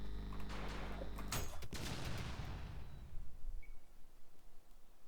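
Gunfire and explosions from the fast-paced ULTRAKILL shooter, with a dense burst of shots and blasts up front, a sharp loud crack near the middle, then a ringing, decaying tail with scattered smaller hits.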